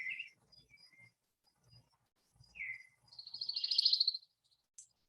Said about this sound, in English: So here's the pine warbler on the right with the sonogram